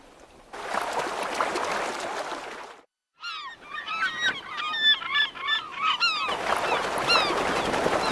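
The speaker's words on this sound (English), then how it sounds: "while eider ducks dive for mussels." Eider ducks on tidal water off the Scottish coast give a run of crooning, honking calls over several seconds, bracketed by steady rushing water noise before and after.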